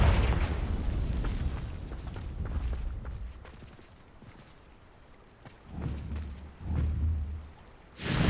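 Fiery Confringo blast spells explode in Hogwarts Legacy, deep booming bursts with rumbling tails, several impacts spaced a second or two apart and a sharp final blast.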